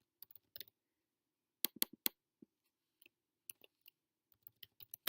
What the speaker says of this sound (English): I'm going to go ahead and type in starring